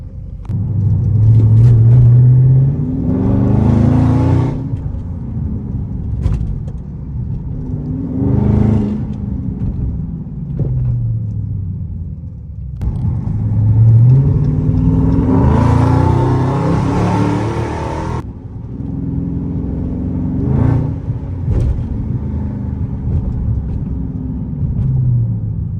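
A Dodge Scat Pack with a 3-inch straight pipe exhaust and mid and rear muffler delete is driven aggressively, its loud, close engine rumbling and repeatedly revving up in hard acceleration pulls, with brief lifts and a sustained high-revving surge.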